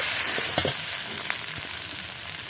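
Cabbage frying in hot oil in a pan gives a steady close sizzle and hiss, with a few soft scraping stir sounds over the short stretch and no talking.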